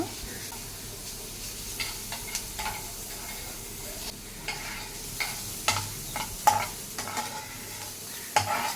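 Grated fresh coconut frying and being stirred in a pan, with a soft continuous sizzle and intermittent scraping and stirring clicks close by.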